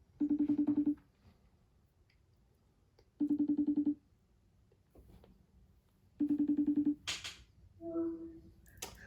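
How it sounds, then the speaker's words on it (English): Three bursts of touch-tone telephone dialing beeps, each about a second long and evenly spaced, with quieter pauses between them, followed by a short ringback-like tone near the end; the sound is clear and close, with no talking over it. "Let's try to make a phone call and see if that works."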